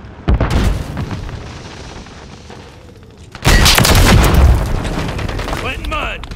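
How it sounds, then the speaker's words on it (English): A stun grenade detonates in a Call of Duty match, a loud sudden boom midway through that follows earlier gunfire-like bursts and trails into sustained noisy rumble with game effects. "Stun grenade out."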